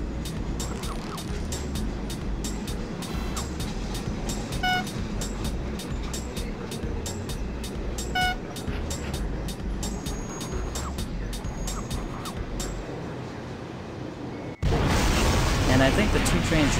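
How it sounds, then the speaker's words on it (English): Two trains colliding inside a tunnel in the train-driving video game Conduct DELUXE: steady rhythmic clicking of wheels and squeaking runs for most of the stretch, then an abrupt, louder broadband crash takes over near the end. "And I think the two trains just collided in the tunnel."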